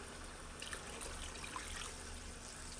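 Water trickles and splashes steadily into a pan of bourbon chicken sauce, a soft continuous pour of about one cup heard up close and fairly quiet, with no speech.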